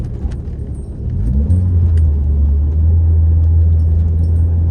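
A VW Mk4 with a 1.8-litre turbo engine and K04-XLB turbocharger drives from the cabin, its engine droning low and rising into a loud, sustained steady hum after a brief swell, with faint clicks above.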